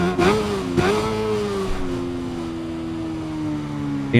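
A BMW motorcycle engine in the racing game Ride 5 revs up loud and close, its pitch rising, dipping briefly at a gear change, then climbing again and holding a steady high drone.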